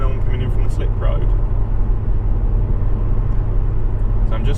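Jaguar XE 2.0D R-Sport diesel cruising at 70 mph in fifth gear on a motorway, a steady low engine drone and road and tyre roar from inside the cabin, continuous under someone talking.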